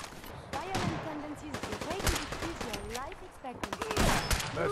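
A harpoon gun hip-fired in Fallout 4 VR, set in Far Harbor, rattles out a run of sharp, rapid bursts that start and stop in clusters, mixed with in-game voices and ambient sound.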